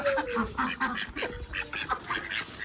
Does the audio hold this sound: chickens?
yes